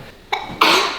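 A single close, loud sneeze, a short breathy intake followed by a sharp burst that trails off, with no one talking over it.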